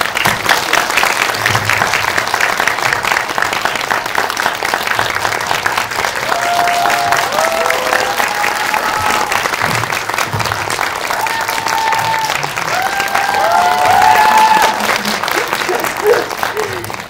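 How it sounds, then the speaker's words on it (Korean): A packed cinema audience at a post-screening Q&A for the film Next Sohee at Megabox Seongsu gives long, sustained applause as the actors and director arrive. Faint melodic tones run beneath the dense clapping. "큰 박수 주시면 배우분들과 그리고 감독님 자리하시겠습니다. 큰 박수 부탁드립니다."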